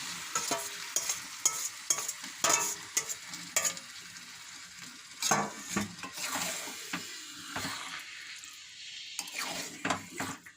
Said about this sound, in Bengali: এবার ওই মটর কড়াইটা দিয়ে দেওয়া হচ্ছে।